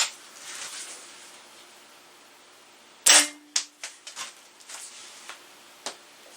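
A nitro piston air rifle fires a JSB pellet with a single sharp, loud crack, followed by a few fainter clicks and handling taps in an otherwise quiet room.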